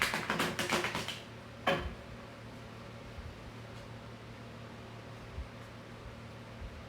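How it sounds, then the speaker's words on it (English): A deck of tarot cards is shuffled: a quick run of crisp riffling flicks at close range, then one more short snap before a quiet, hissy room tone. "Let me shuffle these one more time."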